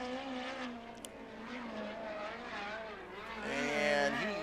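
A USAC midget race car on a qualifying lap at Lawrenceburg Speedway, a dirt oval, drones steadily as the engine pitch rises and falls through the turns, growing louder and higher toward the end.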